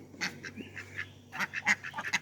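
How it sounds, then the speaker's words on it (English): Several domestic ducks in a garden quack in quick irregular bursts, fairly close and moderately loud over quiet background hum, no talking. "The ducks want to go in the garden and get their evening snack of bugs in the garden."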